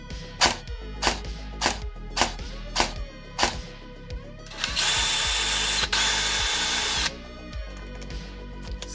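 A small electric motor whirs in a rapid series of short bursts, then runs in one sustained buzzing stretch before returning to brief mechanical clicks.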